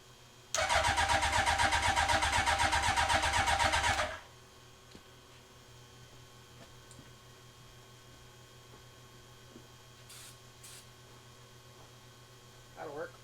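A Hayabusa-powered Can-Am X3, primed with starter fluid, cranks loudly with a rapid rhythmic starter whir for about three and a half seconds, then falls to a faint low hum with small clicks.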